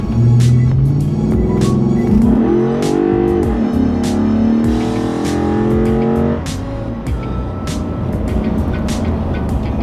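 A Ford Raptor pickup truck accelerates hard, its engine rising in pitch through the gears with loud, close revving, then settling into a steady drone as it cruises on.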